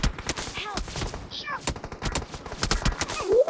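Rapid gunfire fills a match of the mobile game Free Fire, with dense bursts of sharp automatic shots stacked close together and a few quieter effects mixed in. Faint voices sit underneath.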